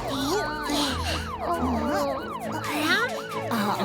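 A cartoon ambulance siren wails in a looping, rising and falling pattern over bouncy background music, loud and continuous throughout.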